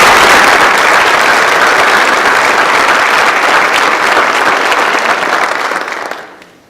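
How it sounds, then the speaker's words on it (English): Rally crowd applauding workers at a Northeast Ohio nuclear power plant, a loud, dense sustained wash of clapping that holds steady for about six seconds before fading out at the end. "So let's give those people a round of applause here today."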